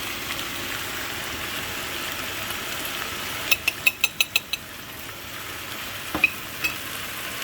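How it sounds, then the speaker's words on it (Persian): Meat sizzles in a pan with spices for abgoosht, a soft steady frying hiss broken by a quick run of sharp clicks from a utensil tapping and stirring the pan, then a couple more taps. "و یکم تفت میدم با ادویه."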